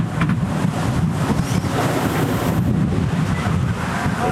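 Waves slap against a sailboat on open water as the sail flaps and deflates, a steady loud wash of water and wind buffeting the microphone with no voices.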